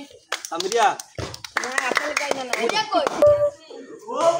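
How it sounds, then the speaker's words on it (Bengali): An audience claps for a prize winner at a bottle-matching cold drink challenge game: short bursts of hand claps mixed in with lively talking nearby. "সবাই হাততালি।"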